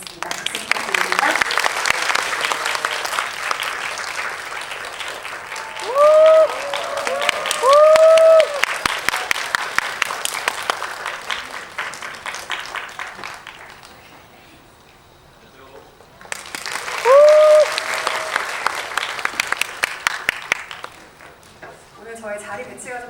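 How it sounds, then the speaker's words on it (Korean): An audience at a special film talk event applauds the guests, the director and actors, with sustained clapping that dips and then swells again. Scattered cheers and whoops rise above it, and a voice briefly speaks during the lull. "박수 부탁드립니다"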